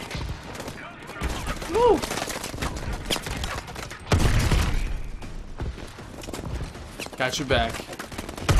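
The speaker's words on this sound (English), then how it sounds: "This is like a freaking insane gun." A futuristic weapon firing in the game Call of Duty: Advanced Warfare, with repeated bursts of gunfire and heavy booms mixed with electronic whines and in-game voices calling out over the action.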